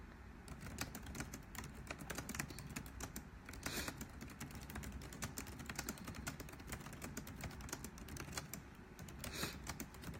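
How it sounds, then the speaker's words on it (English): Quick, continuous tapping on a computer keyboard, close and steady, with dense clicking keystrokes and no voices. "Give me 1 second to type this."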